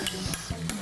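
A spoon scrapes and swirls through burger sauce as relish is mixed in, a few quick soft strokes heard close and quiet.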